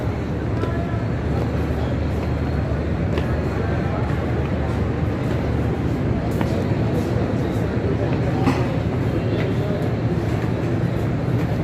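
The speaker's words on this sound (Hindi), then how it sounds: "ये पाकिस्तान रेलवे है।" Busy platform ambience at the Pakistan Railway station in Lahore, a steady rumbling wash of trains and crowd noise with scattered knocks and clatters, voices murmuring throughout.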